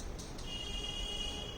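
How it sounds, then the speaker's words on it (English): A mask detection robot's buzzer alert: a thin, steady high-pitched electronic tone that holds for about a second over low background hum, preceded by two faint short blips. "So when the mask detected, then it will give the buzzer alert."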